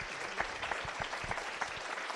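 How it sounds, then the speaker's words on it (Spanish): A small audience at an academic talk claps softly, a faint, steady patter of applause with a few sharper claps. "un aplauso para ambos"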